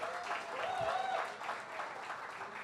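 An audience at a Bollywood film song launch event claps on cue as a guest is welcomed on stage. A brief, moderately loud burst of applause is mixed with a few high whistles and a low murmur of voices.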